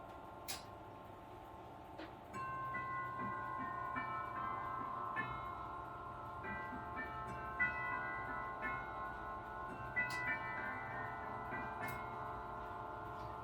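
The tubular bells of a 206cm walnut grandfather clock play the Whittington chime: a sequence of struck notes that ring and overlap, several separate strikes spread over a steady quiet background hum.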